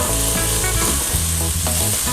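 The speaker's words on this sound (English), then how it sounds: "We want to mix those in with the onion." Sliced peppers and onions sizzle loudly in a pan as they are stirred, a dense continuous frying hiss with scraping and clicking over a short stretch, no speech.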